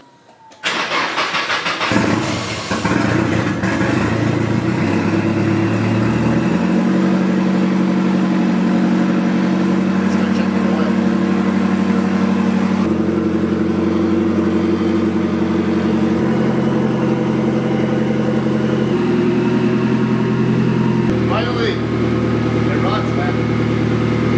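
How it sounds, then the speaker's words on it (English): Nissan SR20DET turbo engine, freshly finished, starting up and settling into a steady loud idle with a few small revs, heard up close over the full stretch while people talk nearby. "we're gonna little rev here and there to hear some turbo"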